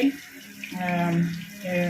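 Water pours into a pan of fried cashews and raisins while a Chettinad wedding-style sweet vermicelli is cooked, a steady close splashing stream that holds for about two seconds.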